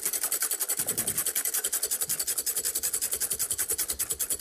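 Eggs being whisked briskly back and forth in a bowl for chocolate mousse, a fast, even rhythmic swishing and rasping of the whisk, close and fairly loud, with no talking.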